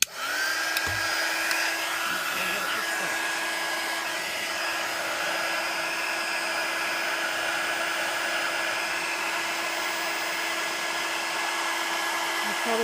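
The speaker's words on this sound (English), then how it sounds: "You have to heat set it, so I'm going to get my heat tool." A craft heat tool blows steadily to heat-set waterless snow globe material, a continuous loud whooshing hiss with a faint whine that holds for the whole stretch after a brief start.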